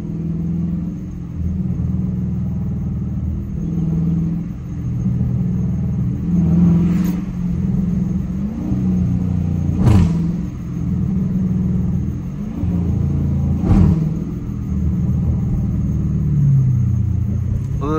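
A Dodge Challenger RT cruises with a low, steady engine rumble and road noise, while worn brake pads let out a few sharp, brief squeals at intervals.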